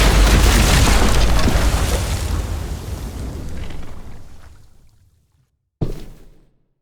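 A bomb goes off in a zombie TV drama: a loud, sustained roaring blast that rumbles and fades over several seconds, followed by a sharp secondary bang near the end.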